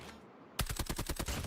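Rapid submachine gun fire in Call of Duty: Mobile, a close, sharp burst of about a dozen evenly spaced shots that begins suddenly after a brief quiet lead-in.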